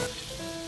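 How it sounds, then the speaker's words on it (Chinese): Food pan-frying in a restaurant kitchen, a steady hissing sizzle held briefly at close range with no talk. "我煎一煎比较快，现在炒一炒会糊。"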